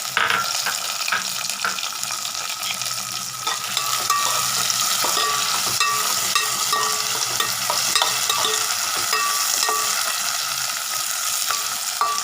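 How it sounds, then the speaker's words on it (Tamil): Tomatoes sauté in a pan for an amaranth stem kuzhambu, a loud, continuous, watery sizzle with stirring scrapes and small clinks throughout, heard alone without speech. "தக்காளி போட்டு திருப்பி நம்ம வதக்கணுங்க."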